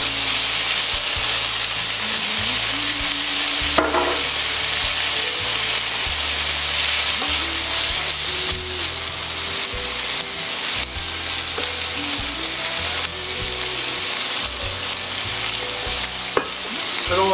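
Onions sweat in a frying pan for a veal stew with pumpkin, giving a steady, close sizzle and hiss throughout, with occasional stirring clatter and no talk.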